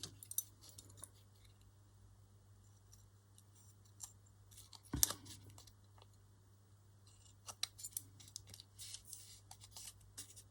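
Scissors snip a small piece of paper off a stamped craft page embellishment, a few faint, brief cuts standing alone against a steady low hum.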